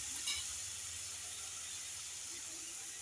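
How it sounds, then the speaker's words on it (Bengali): A steady, fairly quiet hiss of oil sizzling in a pan before fish goes in, with a faint scrape near the start and then an even frying sound with no talking. "বন্ধুরা এবার নেড়ে চেড়ে আমি মাছটা দিয়ে দেবো।"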